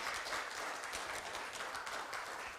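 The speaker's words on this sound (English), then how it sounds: "We need another big round of applause." Applause at a trade agreement signing ceremony: a room of officials and guests clapping steadily and evenly at moderate volume throughout, with no one speaking over it.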